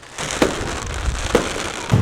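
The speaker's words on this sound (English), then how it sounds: "The fireworks will eventually die down" Fireworks bursting at a Bahamian independence celebration in the street, with a few sharp booms over a constant crackling, rumbling crowd-like background noise.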